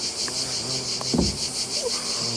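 Honey bees swarm around a hive frame of honey, making a steady, close hum that holds throughout with a brief knock or rustle partway through.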